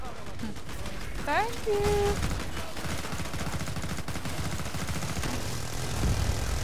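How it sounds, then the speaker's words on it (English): Sustained minigun fire rattles through a jungle map of Killing Floor 2 co-op play, a dense continuous fusillade mixed with game effects, while a player's voice speaks over it. "That was a minigun."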